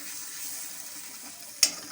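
Potatoes frying with chili powder and spices in oil, a soft continuous sizzle with one brief sharp clink of a utensil near the end before it cuts off.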